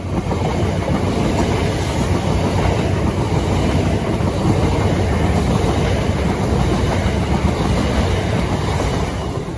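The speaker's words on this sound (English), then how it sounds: "The next train to pass by will be a pair of Southeastern 375s." A pair of Southeastern class 375 electric trains pass by, a loud, steady roar of wheels on track with some rhythmic clickety-clack, close and continuous throughout, no voices.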